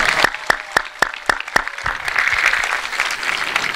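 An audience at a live music performance bursts into applause, beginning with a few loud, evenly spaced claps before swelling into dense, sustained clapping from a crowd.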